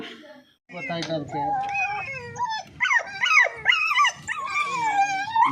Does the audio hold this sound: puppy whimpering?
yes